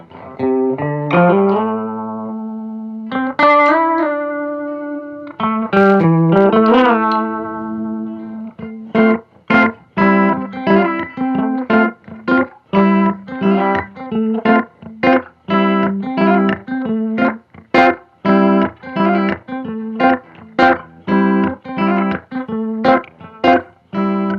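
Guitar notes ring out through a delay pedal with its settings turned high, each one repeating in a fast cascade of echoes that builds into a dense, rhythmic wash.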